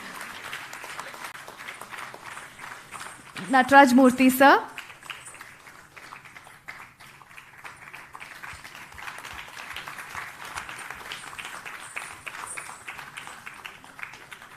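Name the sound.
audience applause for the singers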